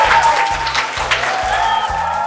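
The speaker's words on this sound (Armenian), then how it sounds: "Ծափարությունները հնչում են" Audience applause on a television quiz show, a dense burst of clapping with a tonal musical sting playing underneath and pulsing low beats.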